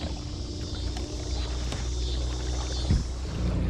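Watersnake 24 lb thrust electric trolling motor pushing a kayak upriver, a steady low hum and water wash running continuously and fairly close, with a brief knock near the end.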